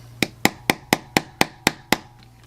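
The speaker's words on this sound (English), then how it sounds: "we're just going to pop that in with our trusty soft hammer" A soft hammer taps a pin into the band of an Invicta Pro Diver watch: eight sharp, evenly spaced close taps at a quick steady rhythm, with a faint low hum underneath.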